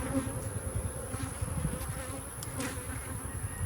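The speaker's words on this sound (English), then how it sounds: "See baby bees." Many bees buzz steadily up close at a hive, a soft droning hum with individual wingbeats flickering in and out.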